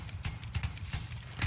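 Horse hooves galloping in the video game Battlefield 1, a quick, rhythmic clip-clop of repeated hoofbeats at moderate loudness, running steadily with no talk over it.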